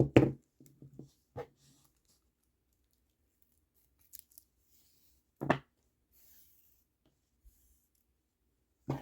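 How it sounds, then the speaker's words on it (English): Scissors snip through cord while making a kandi bead craft, a few short, sharp cuts near the start and later, separated by long quiet gaps. "you can cut this off."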